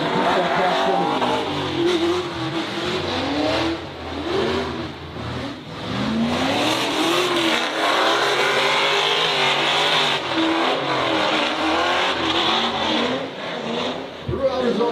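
Drift cars in a competition lap on the plains, engines roaring loudly and continuously with revving, tire squeal and skids, a commentator talking over the noise throughout.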